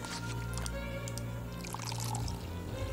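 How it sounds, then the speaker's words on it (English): In the puzzle adventure game Haunted Halls 3, water is poured into a mixture, a steady close trickling pour layered over a constant low background hum and faint game tones, with no talking. "Now I'll put it in there with water."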